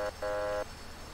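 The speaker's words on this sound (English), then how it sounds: "Here's a horn." Two short electronic horn honks from a Ford Expedition fire chief vehicle in a Roblox game, the first brief and the second longer, steady and buzzy, followed by quiet.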